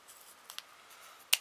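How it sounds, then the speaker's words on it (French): Scissors snip loose thread ends on the back of a soft Easter egg decoration, making a few faint, sparse clicks and one sharper, louder cut near the end, close by in a quiet room. "Donc, une paire de ciseaux, elle est là. Je vais couper tous les bouts à l'arrière là."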